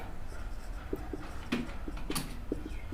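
Chalk or marker writes a maths question on a classroom board in short, quiet scratching strokes, several taps and squeaks spaced across a few seconds in a faintly noisy room.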